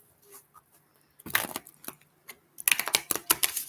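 Tarot cards are shuffled by hand in short, crisp riffling bursts, close and fairly quiet, with brief pauses between flurries.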